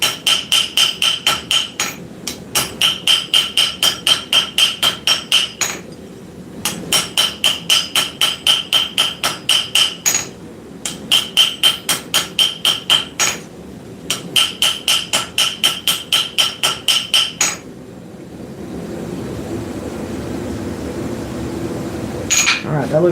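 A hammer planishes forged metal in a blacksmith workshop, ringing in rapid regular bursts of blows separated by short pauses, loud and close, before giving way to a steady roar like a forge fire.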